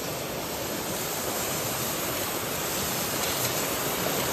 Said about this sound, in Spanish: miren qué bonito se ve ahorita el arroyo